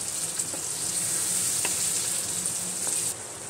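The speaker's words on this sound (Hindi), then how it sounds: "अब मैं इसमें भी मैश करी हुई सब्जी डालकर मिक्स करूँगी" Mashed boiled vegetables stirred into roasted masala for pav bhaji give a steady close sizzle with a few soft scraping knocks from the stirring. The sizzle drops slightly near the end.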